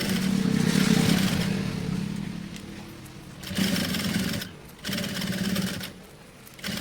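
A sewing machine runs in bursts as it stitches along a strip of lace on a children's top, its steady motor whir and needle clatter close and loud, pausing and restarting.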